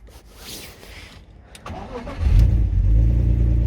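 A drift car's engine cranks and catches, starting with a few quieter mechanical clatters before a loud, deep idle rumble takes over and holds steady close to the microphone.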